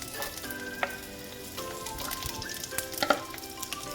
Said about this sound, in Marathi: भाज्या छान परतून घ्यायच्यात आपल्याला.